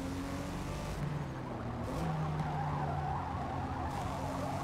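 A 2021 BMW M4 driving in Forza Motorsport, its engine droning steadily with tire noise and faint squeal throughout, fairly quiet and without talk.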